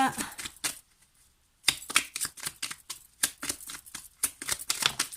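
Tarot cards are shuffled and drawn close by, with a crisp run of riffling and flicking, then a brief pause, then renewed rapid card slaps and snaps in irregular bursts.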